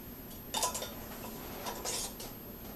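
Metal rings being screwed onto glass canning jars for pressure-canned pinto beans give off a couple of soft metallic clinks and scraping twists, close and fairly quiet, with no talking.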